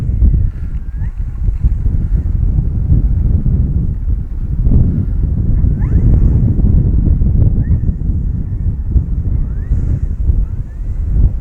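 Steady, loud wind buffeting the microphone at an RC airplane flying field beside an E-flite Carbon Z T-28 model plane, a continuous low rumble that holds for the whole stretch with only slight gusting swells.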